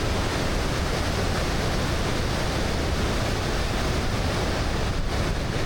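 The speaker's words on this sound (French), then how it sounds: "Et là, on a une super belle cascade encore." Steady, loud rushing roar of a waterfall beside a glacier in Norway, a continuous broadband wash of falling water filling the whole clip with no voices.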